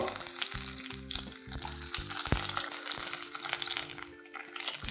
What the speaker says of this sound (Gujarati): હવે આપણે એ જ તેલમાં બે તમાલપત્ર એક સમારેલો કાંદો